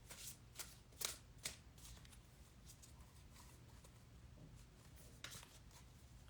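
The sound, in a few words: shuffling a deck of tarot cards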